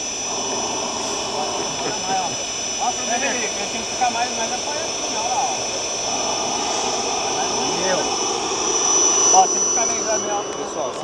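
An air compressor fitted with a silencer, used for fish farming, runs with a steady, loud, broadband roar and whine throughout, with faint voices underneath.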